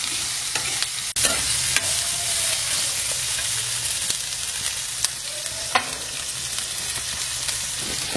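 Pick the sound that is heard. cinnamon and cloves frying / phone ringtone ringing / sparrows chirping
cinnamon and cloves frying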